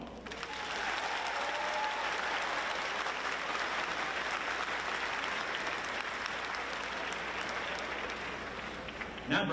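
Graduation audience at the International Academy 2022 commencement breaks into long, even applause, a broad wash of many hands clapping that holds steady for close to ten seconds.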